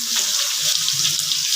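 Ground onion paste sizzles and crackles steadily in a hot pan, with whole spices already in the oil. The frying is close and even, with no voice over it.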